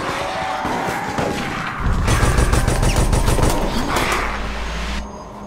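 Shotgun blasts ring out in rapid succession during a Resident Evil: Operation Raccoon City firefight, loud and close, mixed with other game gunfire and mechanical clatter.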